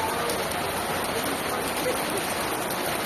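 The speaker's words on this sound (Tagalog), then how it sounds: "Lumalakas pa ang ulan." Heavy rain pours down steadily during flooding in Meycauayan, a dense continuous hiss of drops hitting surfaces close by, with no pauses for the full duration.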